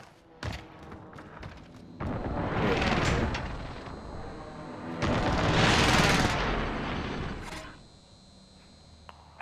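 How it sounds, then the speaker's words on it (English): Precision airstrike in Call of Duty: Modern Warfare, two long rumbling barrages of explosions and bursts, each swelling loud for a few seconds with sharp single hits between and after. "Allied precision airstrike incoming."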